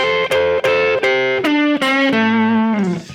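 Distorted electric guitar playing a quick minor pentatonic blues lick, two notes fretted together then a hammer-on, notes sliding in a fast bending phrase, loud and close with sustained ringing tones.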